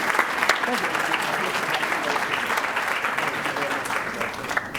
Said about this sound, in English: One more time, round of applause for this amazing academic team.